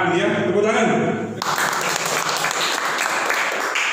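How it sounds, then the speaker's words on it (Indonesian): An audience at a business presentation bursts into applause, a dense continuous clapping that swells in and stays loud and close throughout. "Tepuk tangan."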